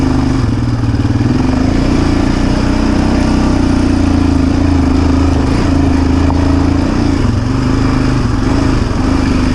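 A Yamaha Raptor 700R ATV engine runs steadily and loudly up close during a trail ride at Brushy Mountain, a continuous throbbing drone with rattling clatter and slight throttle changes, with no talking.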